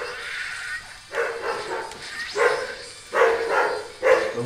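A dog barks and yips repeatedly in a series of short, evenly spaced bursts, loud and close against steady background noise.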